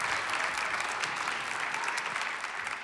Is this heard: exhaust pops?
no